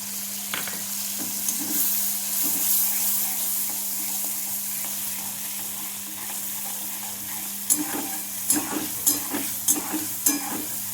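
Poppy seeds go into a frying pan with ridge gourd, bringing a gentle, steady sizzle under a low hum, then a run of sharper stirring scrapes near the end, with no voices.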